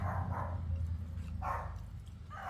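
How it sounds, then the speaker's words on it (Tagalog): A few faint dog barks sound from a distance over a low, steady background hum, coming in short pairs. "Ingay ng aso."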